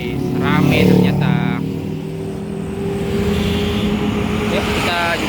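A convoy of Honda PCX and Yamaha NMAX scooters on a mountain road to Lake Maninjau via Kelok 44, engines droning and passing nearby with a swell of revving, while someone talks over them.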